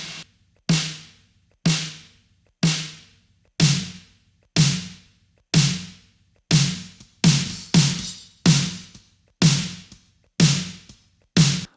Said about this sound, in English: that's what our snare drum sounds like with our 2 samples